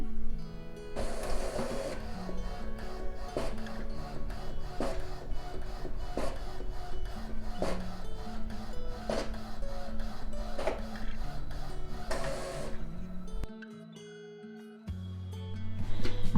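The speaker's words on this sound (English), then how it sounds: "send it to the Ricoh, scale it to the correct size and then hit print." A Ricoh printer runs a sublimation print job, a loud steady mechanical whir with rhythmic clunks and rising motor tones that drops to near silence before a final low hum.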